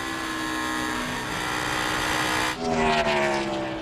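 A 2003 race car engine screams at high revs during practice at the Pennsylvania 500, heard from onboard as it shifts up a gear, the pitch dropping then climbing again, loud and continuous.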